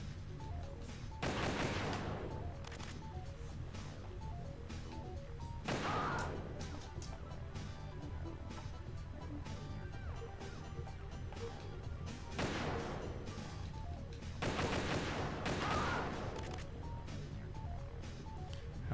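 Sniper rifle fire in Metal Gear Solid 2: Substance on PlayStation 2, three sharp, heavy shots spaced several seconds apart over low game ambience, with no talking.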